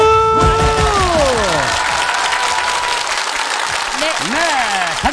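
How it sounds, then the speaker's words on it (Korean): A TV game show studio audience bursts into loud applause for both teams, with a musical jingle sweeping down over the clapping and continuing steadily to the end. "양팀 박수!"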